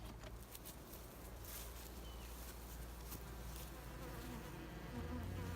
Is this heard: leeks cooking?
no